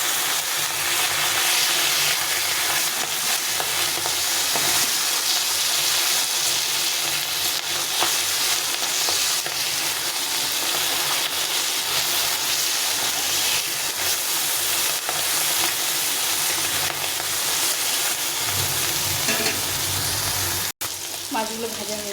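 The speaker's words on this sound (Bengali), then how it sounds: "মাছগুলো এক পাশে ভালো হয়ে গেছে, উল্টে পাল্টে ভেজে নিতে হবে।" Small fish sizzle in hot oil in a pan as they are turned over, with a steady, loud frying hiss and occasional stirring scrapes running continuously, ending with a sharp click.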